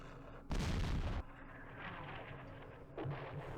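Airstrike explosions in the Vietnam war game Campaign Series Vietnam, Battle of Khe Sanh Village 1968: a loud broadband blast for about a second, then a rumbling tail and a smaller second burst, all fairly quiet overall.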